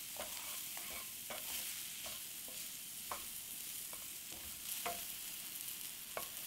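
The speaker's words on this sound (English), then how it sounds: "Stir it for about 2 minutes until the green peas are cooked" Green peas with mango powder being stirred in a hot pan for samosa filling, a faint steady sizzle broken by light scrapes and taps of the spoon at an irregular pace, close but quiet, no voices.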